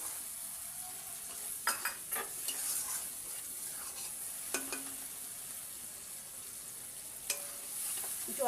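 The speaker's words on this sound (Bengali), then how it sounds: "জল দিয়ে দিলাম।" Water poured into a pan of sizzling spice paste for a Bengali dhokar jhal curry, a steady close frying hiss with a few clinks and scrapes of utensils against the pan, no voices.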